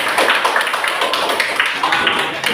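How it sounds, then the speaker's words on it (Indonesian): A group of students claps together in a classroom, a dense, fairly loud patter of hands lasting the whole moment without speech. "Tepuk tangan para Febri."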